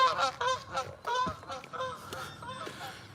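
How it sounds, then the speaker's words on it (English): A couple of geese honk repeatedly near a park-like backyard, loud nasal calls coming in quick overlapping bursts at fairly close range. "There's a couple geese."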